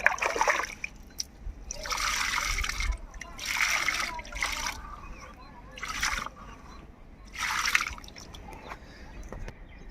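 Water poured generously onto a newly planted gooseberry sapling until it overflows, heard as several splashing, trickling bursts with quieter dripping between them, at low level against faint background noise.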